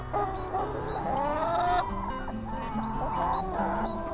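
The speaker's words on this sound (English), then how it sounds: "We've got about 200 egg-laying chickens." Egg-laying brown hens on a farm cluck and make drawn-out, warbling squawks, several birds overlapping nearby in a steady chorus with no one talking.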